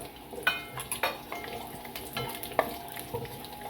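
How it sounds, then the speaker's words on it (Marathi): Grated coconut roasting in a spoonful of ghee in a pan gives a soft, close sizzle, with a spoon or spatula scraping and tapping the pan at irregular intervals. "आपण थोडंसं एक चमचा तूप टाकायचं त्याच्यात खोबरं"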